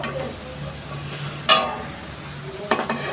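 Pumpkin koftas frying in hot oil, a soft steady sizzle broken by metallic clinks of a utensil against the pan as pieces are lifted out, close by with no voices.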